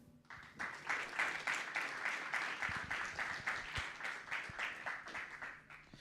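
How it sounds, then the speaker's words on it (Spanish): Warm applause from an audience at a talk on science and ideology greets a speaker, with many hands clapping in a steady, dense patter that rises quickly and holds for several seconds. "Lo recibimos con un enorme aplauso al licenciado Matías Castro con su charla"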